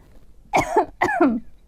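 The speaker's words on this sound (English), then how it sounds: "I have to clear my throat for a second." Two rough, raspy throat-clearing bursts close to the listener, a brief pause between them, with no talking.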